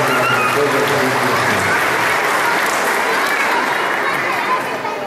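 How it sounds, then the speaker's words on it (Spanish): Loud, sustained applause from a large audience at a kindergarten graduation ceremony in Naolinco, Veracruz, a dense wash of clapping that continues without a break throughout, with some crowd voices mixed in. "Vamos a darles un aplauso"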